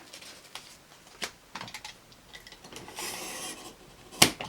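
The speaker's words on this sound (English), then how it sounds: "I put my weight on it, a good sharp knife, and we just cut layer by layer." A sharp knife cuts through a stack of paper layer by layer for a handmade notebook, giving faint, scratchy rasping strokes with a few brief sharper scrapes, close and quiet.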